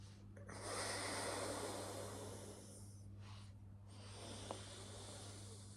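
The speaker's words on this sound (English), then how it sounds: "Fill it first in the stomach, then filling the lungs until you can't breathe in anymore, and then expel that out through the nose" Slow, deep breaths in a quiet room, with a long airy inhale and a drawn-out hissing exhale through the nose, soft and close over a low steady hum.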